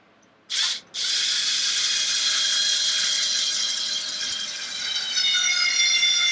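A power driver or tool briefly whirring, then a steady high mechanical whine of a screw being driven into an RC car servo mount, close and continuous, with no talking.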